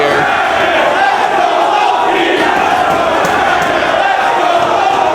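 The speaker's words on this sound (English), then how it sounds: "You hear the crowd here." A loud, dense wrestling crowd roars and cheers steadily throughout at Ring of Honor's Final Battle event, with chanting and bellowing voices blending into one continuous wall of sound.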